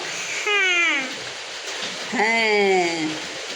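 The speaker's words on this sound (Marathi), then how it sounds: "पाऊस कंटिन्यू पाऊस पडता गावात" Continuous rain falling in a village, a soft steady hiss in the background while a person speaks over it in two short bursts.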